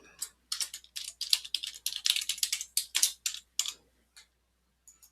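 Typing on a computer keyboard to enter a new password; a close, brisk burst of key clicks in quick irregular rhythm that slows to a few isolated taps, with no talk.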